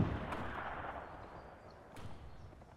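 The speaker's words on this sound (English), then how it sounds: "I'll tell my artillery to shell the enemy with gas" Gas shells fired by artillery in a World War One strategy game on the German side, heard as a deep rumbling boom fading into a low roll, with a faint distant thud following.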